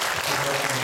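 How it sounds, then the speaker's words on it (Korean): Church congregation at a Sunday worship service breaks into brief applause, a short burst of close, continuous clapping. "환영합니다. 박수 한번 주세요."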